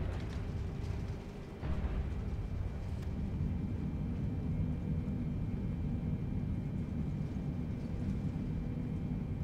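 A Boeing 747 lands in Microsoft Flight Simulator 2020, a steady, loud, low engine and rolling rumble that continues without a break and without voices.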